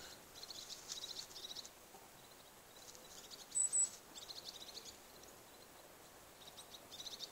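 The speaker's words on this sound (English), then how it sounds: "You see the birds everywhere? I hear them, so maybe the camera will get the sound." Birds singing in springtime trees, heard as faint, repeated bursts of high chirping that come and go over a quiet outdoor background, with one brief louder chirp near the middle.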